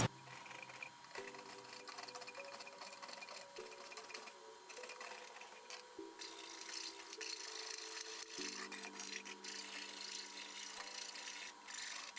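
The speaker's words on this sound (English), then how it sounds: "I'm going to take a file on these edges here" A hand file rasps along the edges of a handmade wooden fork, giving a steady, continuous scraping close by with no talking.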